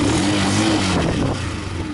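A cold, not yet warmed-up Romet ZXT 125 motorcycle idles close by with a slightly uneven, putting engine note, briefly and loudly.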